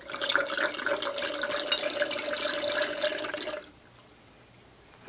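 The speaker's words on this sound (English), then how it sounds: "and then you pour your wine." Wine pours through a glass aerator with a steady hissing, bubbling gush for about three and a half seconds, then stops abruptly, leaving near quiet, no speech.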